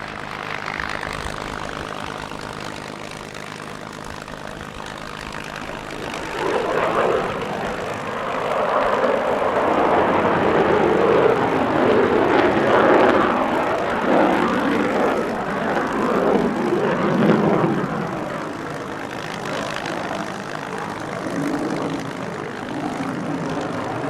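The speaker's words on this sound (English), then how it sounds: "Here we see what's been dubbed as a victory flight featuring 3 of the Warbirds we saw earlier on." Several propeller-driven warbirds fly past together in a victory flight at the Quinte International Airshow, their engines droning steadily and swelling louder as the formation passes overhead, then easing back to a distant hum.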